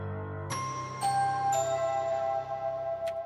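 Shimmering synth chimes from an epic remix of the Mario Kart theme, styled like a movie trailer and built with built-in shimmery texture effects: three bright struck tones enter about half a second apart over a low sustained pad, ringing on with a faint glint near the end.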